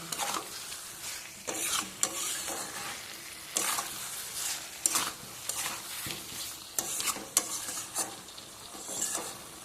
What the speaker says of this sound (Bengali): গ্যাসটা লো টু মিডিয়ামে রেখেই আমি কষিয়ে নেব।